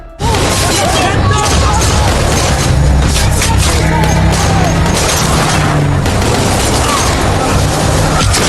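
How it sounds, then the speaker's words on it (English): A sudden loud explosion at a morgue in Mexico erupts and gives way to a sustained roaring rumble with crackling debris, dense and close throughout. "suddenly a loud explosion shook the entire area"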